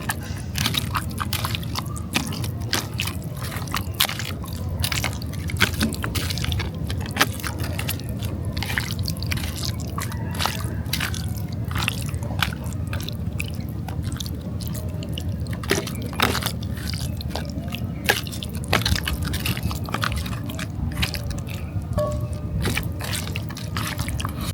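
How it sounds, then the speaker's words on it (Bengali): Raw chicken is worked by hand with spice paste in a village kitchen, giving continuous wet squishing and dripping sounds, close and steady throughout, with no speech. "এইবার সুন্দর করে মশলাটাকে আমরা এই মাংসর সাথে মিশিয়ে নেব।"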